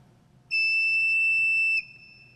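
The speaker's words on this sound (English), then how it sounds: "And then from this very small pipe." A very small organ pipe sounds a single steady, piercing high pitch for about a second and a quarter, clean and sustained, then cuts off with a faint room tail.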